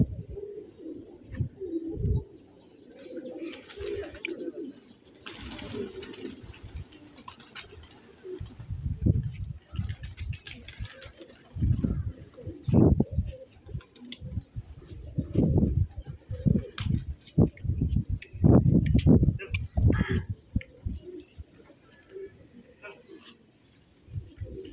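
Desi pigeons coo in low, throaty bursts, repeated and overlapping at close range, with some rustling and faint background noise.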